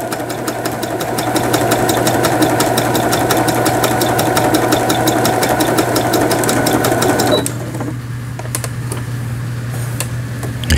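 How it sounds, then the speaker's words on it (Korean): A Japanese-domestic Brother CPS42 sewing machine stitches steadily at close range with a fast, even mechanical clatter, then its motor note drops and it runs on more quietly for the last few seconds. "각종 기능들 정상적으로 박음질돼서 나오는 브라더 미싱 해외 일본 내수형 제품"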